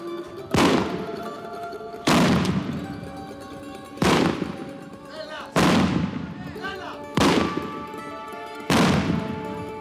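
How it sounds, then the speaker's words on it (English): Fused fireworks batteries explode on the ground at the San Severo festival, six loud booming blasts at roughly one-and-a-half-second intervals, each with a long rumbling decay and crackle, heard up close without talk. "sono delle batterie spolettate che passa il passafuoco e esplodano a terra"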